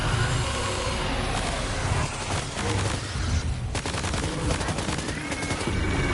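Rapid, dense gunfire rattles almost without pause as an enemy is shot in Death Stranding 2, loud and continuous with bursts overlapping throughout.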